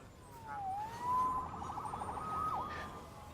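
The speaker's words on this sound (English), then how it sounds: "Saved by the siren." A police siren in the Spider-Man video game wails at a distance, its pitch rising and falling in a slow sweep over a low background rumble.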